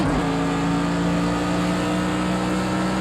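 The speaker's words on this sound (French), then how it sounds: "Elle accélère bien la voiture devant." A racing car engine in Project CARS 2 drones steadily at high revs, a continuous loud mechanical whine that holds throughout with no voices.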